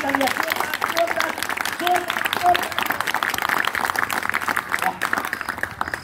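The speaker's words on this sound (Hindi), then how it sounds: "जोरदार तालियां लगाए अपने लिए, जोरदार तालियां" An audience claps loudly and continuously for several seconds, a dense steady burst of applause from a large crowd at a motivational talk, with faint babble beneath.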